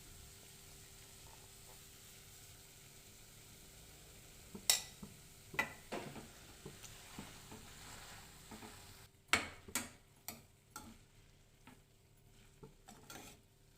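Kodo millet noodles tossed with masala in a pan, stirred with a utensil that scrapes and taps the metal in irregular clicks over a faint sizzle, quiet and close, with no talking.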